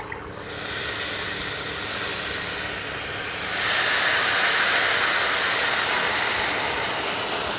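Water poured into a hot pan of fried rice for pilau, a loud steady sizzling hiss that swells midway and keeps steaming, with no talking.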